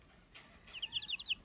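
A small bantam hen on a farm gives a short run of quick, high chirpy clucks after a couple of faint rustles, soft and close, lasting only a moment.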